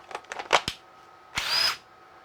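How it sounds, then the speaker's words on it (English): A DeWALT impact driver powered through a DCA1820 battery adapter gives a few short clicks and bursts, then a roughly half-second whir of the motor, close and loud. "Let's put it on the impact driver."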